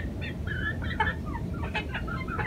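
Aseel chicks clucking and peeping in a cage, several soft, chirpy calls over steady background noise.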